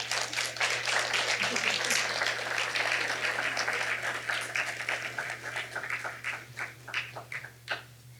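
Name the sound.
audience applause after a talk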